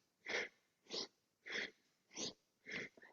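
Five forceful, evenly spaced breaths pushed out through the nose during a yoga breathing sequence, each a sharp rushing exhale with short silences between, close and alone.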